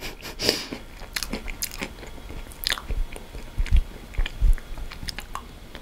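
Crunchy pretzel pieces in dark chocolate ice cream are bitten and chewed up close, a run of crisp crackling crunches followed by softer, irregular chewing with no talk.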